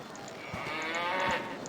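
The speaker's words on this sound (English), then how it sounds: "The cows used to say ouch." Cattle mooing in the video game Baldur's Gate: Enhanced Edition, two short lowing calls at moderate distance over a faint steady game ambience, no talk.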